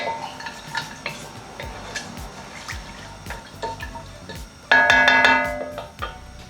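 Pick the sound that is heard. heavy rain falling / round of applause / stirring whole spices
stirring whole spices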